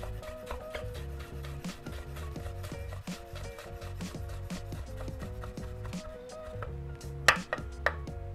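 A knife slices rolled sage leaves into thin strips on a chopping board, a fast even run of close light taps with a couple of louder knocks near the end, no talk.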